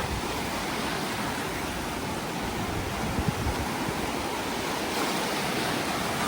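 Continuous rushing surf of sea waves breaking on rocks, a broad steady roar of water with no clear pauses, near and fairly loud.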